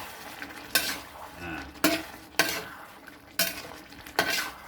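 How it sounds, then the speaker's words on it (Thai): Pork, red curry paste and long beans stir-fry in a pan, with sharp scraping spatula strokes recurring every second or so over a low sizzle, close and loud. "ทีนี้ก็ผัดให้เข้ากัน"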